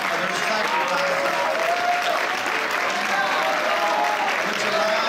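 Sustained, dense applause from a crowd at a high school athletic banquet, even and unbroken from start to finish, with some voices mixed in beneath the clapping.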